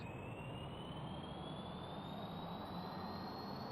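Spacecraft engines roaring at full power in Kerbal Space Program, a steady, loud broadband rumble with a rising high whine running throughout, heard alone without talk.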